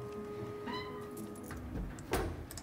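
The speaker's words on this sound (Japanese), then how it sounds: "にゃんこ撫でたい" A cat gives a short, faint meow in the cannibal restaurant simulation game Ravenous Devils, set against quiet background clatter and a brief soft thump.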